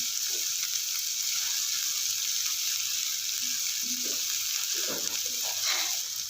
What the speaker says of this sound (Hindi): तकरीबन मैं इसको 30 सेकंड के लिए फ्राई करूँगी।